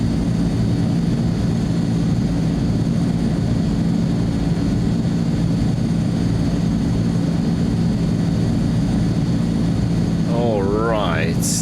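A propeller aircraft taxis in Microsoft Flight Simulator 2020, a loud, constant engine and propeller drone with no break, with a brief higher-pitched warbling tone near the end.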